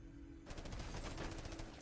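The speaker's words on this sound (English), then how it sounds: "He just gave away his position with the gunfire" Rapid bursts of video game gunfire during a competitive Nerf Miner team match, starting abruptly after a brief quiet lead-in and continuing as dense, loud, overlapping shots with no talk.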